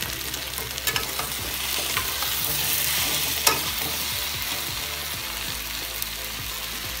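Spices and masala for a Bengali potato, aubergine and egg curry sautéed and stirred in a pan with cumin, coriander and Kashmiri red chilli powder: steady close frying sizzle with repeated scraping stirs, no voices.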